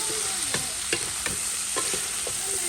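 Luchi puffs in hot oil with a loud, dense sizzle and crackle, broken by repeated soft pops and stirring knocks, and no voices.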